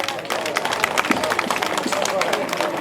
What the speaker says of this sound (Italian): Facciamo un applauso a Ugo Venuti.